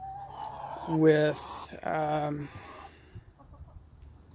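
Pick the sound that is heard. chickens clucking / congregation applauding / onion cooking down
chickens clucking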